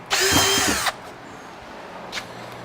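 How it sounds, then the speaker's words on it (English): A power drill drilling a pilot hole for screws to mount an outdoor light whines loudly in one short burst of under a second, then stops; a faint brief click follows in a quiet room. "Drilling some pilot holes for the screws to mount it."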